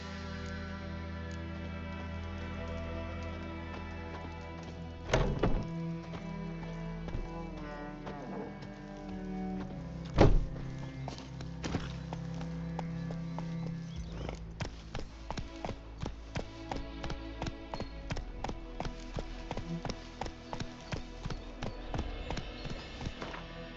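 Hooves of the horse Roach in the video game The Witcher, a steady rhythmic clip-clop that becomes regular in the second half, set under game music with a couple of louder thumps earlier.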